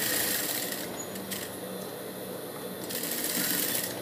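A sewing machine backstitching a seam on a blue dress: a continuous close whirring run of rapid stitches lasting several seconds, fairly quiet and steady.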